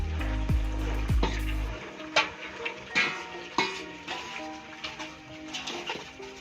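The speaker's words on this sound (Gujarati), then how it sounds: "તો હવે નાખી આપણા ચણા." Chickpeas are tipped into cooking masala in a pan and stirred, with a few loud impacts at first and then a close, irregular scraping and clinking of a utensil against metal, with light sizzling.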